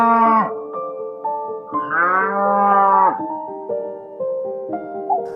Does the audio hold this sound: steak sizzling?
no